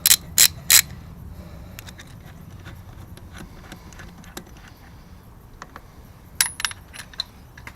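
A banjo bolt being undone on a Classic Mini servo, with three sharp metallic clicks up front and a few fainter ticks and clinks later over a quiet workshop background.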